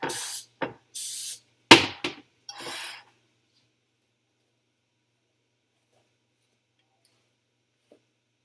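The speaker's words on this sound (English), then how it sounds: "I'm just going to spray my pan, pour it in, and then put it into the oven." Cooking spray hisses onto a baking pan for cornbread in several short, close bursts over about three seconds, followed by near silence.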